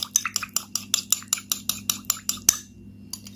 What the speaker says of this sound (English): Now try to mix very well all the ingredients